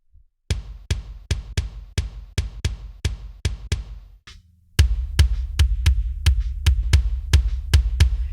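Layered kick drum samples from a large drum kit mix, heard dry without reverb: a steady run of punchy, booming thumps with short decays, a brief gap, then a louder and denser stretch of hits, no voices.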